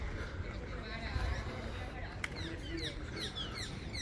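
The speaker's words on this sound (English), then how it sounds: "See the birds singing?" Birds sing near the beach at Puerto del Carmen, Lanzarote, Spain: a few quick high chirps and tweets rise over steady outdoor ambience and a low background murmur, moderately close but not loud.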